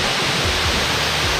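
Kakochang Waterfall in Assam, India roars as a broad, steady rush of falling water, loud and close, with no other sounds.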